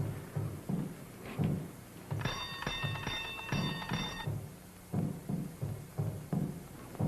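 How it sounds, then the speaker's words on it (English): A door bell rings in a bright, sustained trill for about two seconds, clearly audible under nearby voices talking before and after it. "You ring the bell."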